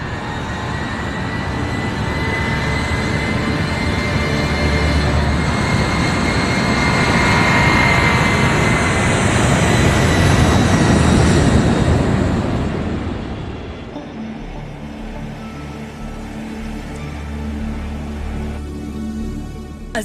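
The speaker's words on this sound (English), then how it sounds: "As the giant aircraft heads southeast" A giant long-haul airliner flies on, its engines giving a loud, continuous roar that holds steady, then eases to a lower, quieter drone near the end.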